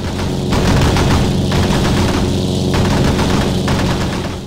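Eight wing-mounted .303 machine guns on a Supermarine Spitfire fighter of the Battle of Britain fire in loud, continuous rapid bursts that rattle on without pause, close and dense with no voices.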